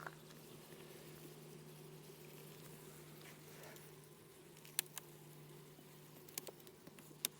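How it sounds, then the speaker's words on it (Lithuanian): Honeybees crowded into a beehive hum as a steady low drone, joined by a few sharp clicks and ticks toward the end. "Bitės visos čia sulindė."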